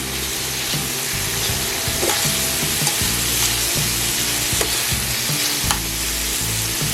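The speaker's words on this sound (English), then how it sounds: "So we're just going to keep flipping that old stuff around." Steak sizzling loudly on an induction cooktop, a steady close crackle with occasional scrapes and taps as the meat is flipped, and no voices.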